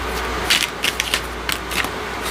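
Tarot cards are shuffled and drawn from the deck, a run of soft, close riffling and flicking sounds with several crisp snaps spread across two seconds, with no talking.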